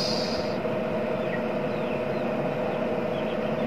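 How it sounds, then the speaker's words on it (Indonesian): Cooling fan of an Ashley PA 1600+ power amplifier, a steady close whooshing hum with a broad airy hiss and no change over a few seconds, heard alone. "Ini bunyi kipas ya,"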